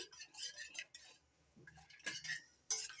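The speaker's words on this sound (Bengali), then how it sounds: "দুধের সঙ্গে সুজি ভালো করে মিশিয়ে নিচ্ছি" A spoon clinks against a pan while semolina is mixed into milk, giving quiet scraping and tapping in short irregular bursts with pauses between them, close but faint.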